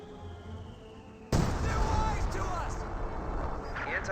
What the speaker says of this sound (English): Artillery's running on in,